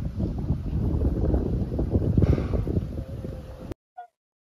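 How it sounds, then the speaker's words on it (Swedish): Strong wind buffets the microphone on the summit of Little Adam's Peak near Ella, Sri Lanka, a steady loud roaring rush lasting several seconds before cutting out abruptly. "Gud vad blåsigt det var. Väldigt blåsigt."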